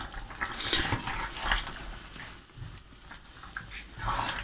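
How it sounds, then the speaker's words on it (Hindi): Tomatoes being mashed and stirred with chicken pieces in a karahi for Shinwari chicken karahi, giving soft irregular squelching and scraping with faint sizzling, close up and fairly quiet, without speech. "अब इसको साथ साथ टमाटरों को मैश करते जाएंगे"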